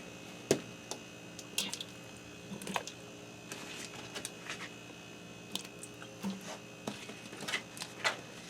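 Cut russet potato pieces, four potatoes' worth, dropped one by one into an Instant Pot around a pot roast, giving a scattered series of soft, quiet clunks and taps with no talking.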